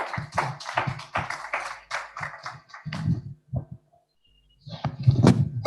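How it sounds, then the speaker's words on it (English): A small conference audience at a DNS forum applauds panelists with sparse, close claps in an irregular patter. The clapping fades into a short near-silence, then a final burst of clapping and movement. "Give our panelists a round of applause,"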